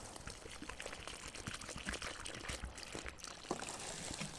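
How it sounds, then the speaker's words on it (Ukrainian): Water is poured by hand onto a newly planted epimedium in garden soil in autumn, a soft continuous trickle and splash lasting a few seconds, close and faint, with no talking. "Так, вода доставлена, зараз проливаємо."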